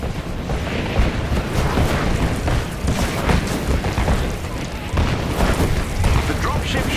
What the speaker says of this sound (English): Their artillery's targeting you. Incoming!